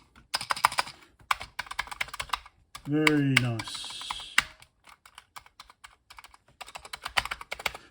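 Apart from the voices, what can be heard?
typing on a refurbished Commodore VIC-20 keyboard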